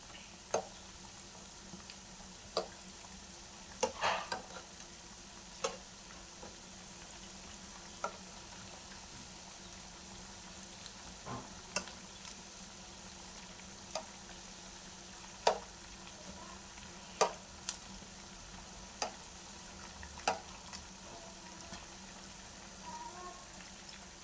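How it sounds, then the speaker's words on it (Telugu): Wheat flour bondas frying in oil give a steady, soft, close sizzle for a long stretch, broken by regular sharp clicks and taps as a spoon stirs and turns them in the pan. "ఇట్లా అన్నీ కలుపుతూనే ఫ్రై చేస్తుండాలండి లేకపోతే ఒకటే వైపు వేగుతాయి"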